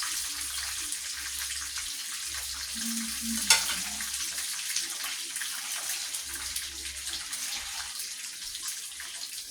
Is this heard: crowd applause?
no